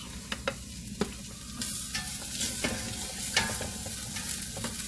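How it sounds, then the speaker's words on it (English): Onions and mushrooms for cream of mushroom and bacon soup stirred in a pot, several quick spoon clicks followed by a steady close sizzle, without talk. "Because I want to get these onions started in the cooking process."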